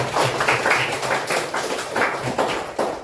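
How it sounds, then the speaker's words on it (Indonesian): Pupils in a primary-school maths class clap for their classmates, a steady run of many hands patting fairly close by, continuous for about three seconds. "boleh tepuk tangan pada teman-teman"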